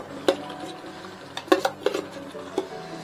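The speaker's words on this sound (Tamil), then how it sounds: "இப்போ நெய் கொடுத்து திரும்பி லைட்டாக கிண்டி கொடுங்க" A spoon scraping and knocking around a pan of apple halwa with ghee, a few sharp metallic clinks over a soft sticky stirring rustle, close and moderately loud.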